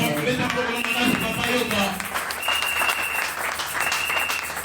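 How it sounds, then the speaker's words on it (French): Church congregation applauding and calling out acclamations during a Sunday service, a dense steady wash of clapping with voices mixed in and some sustained tones rising from the crowd. "Alors, je vais écouter tes acclamations."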